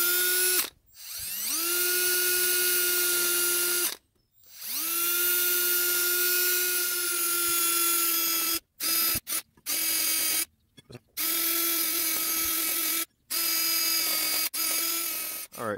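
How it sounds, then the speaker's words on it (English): A drill spinning a wire brush cleans the front brake caliper hardware of a 2004 Chrysler Pacifica, sounding as a high steady whine in long runs, broken by several short pauses and brief restarts near the end. "Use my brush, drill brush."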